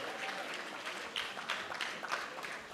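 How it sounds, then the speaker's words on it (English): Steady clapping from an audience at a competition semifinal, a dense patter of many hands that continues evenly, heard at a slight distance. "Give them another round of applause."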